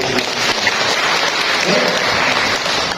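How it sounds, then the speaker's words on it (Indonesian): An audience at a village hall community event in Indonesia breaks into loud, sustained applause, a dense continuous wash of clapping lasting the whole moment with no pause. "boleh berikan tepuk tangan yang meriah"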